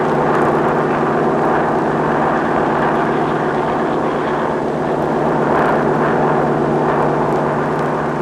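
Steady droning engine roar of a carrier aircraft launching by catapult from an aircraft carrier, loud and continuous with slight swells, no speech.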